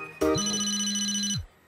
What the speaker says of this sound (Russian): я слышала рингтон Рониен из Типпи на сцене